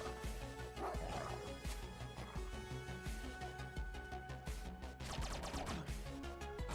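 Dogs bark and yip repeatedly in the video game The Mummy Demastered, sharp bursts mixed over game music and clatter, fairly quiet overall.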